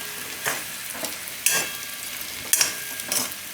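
Chilli powder and coriander-cumin spice get stirred into oil in a frying pan, a soft continuous sizzle broken by four or five sharp scraping strokes of a spoon, close and without talk.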